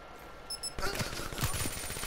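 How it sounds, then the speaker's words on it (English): Call of Duty gunfight shots crack out in a quick series of sharp reports after a quieter start, mixed into busy game noise with a commentator talking over them. "Snow tries a shot."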